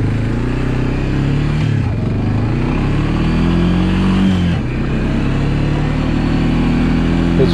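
A Honda FourTrax 300 ATV engine labours up a very steep hillside while side-hilling on a swamp trail. The motor drones loud and close with a steady, strained pitch that dips briefly twice.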